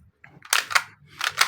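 A Tokyo Marui Glock 17 Gen5 MOS gas blowback airsoft pistol fires a few sharp, snappy shots close by, in two quick bursts, each with a crisp pop and a slide clack.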